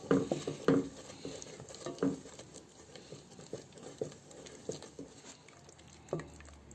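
A spoon stirs flour into melted butter in a pan to start a béchamel, close soft scraping and patting strokes in an uneven rhythm, with no talking.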